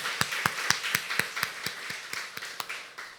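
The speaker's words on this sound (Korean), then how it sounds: "우리 다 같이 박수로 환영합니다" A church congregation at a Sunday service clapping to welcome a new member, a steady rhythmic beat of hands close by, about four claps per second over a soft room background, with no talking.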